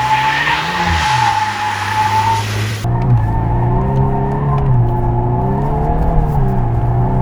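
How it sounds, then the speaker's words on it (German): A VW Golf 8 R engine drones and revs while tires skid in a long continuous drift squeal, loud and close throughout, with no voices. "Dann ist es auch echt nicht mehr so schwer, den Drift zu halten"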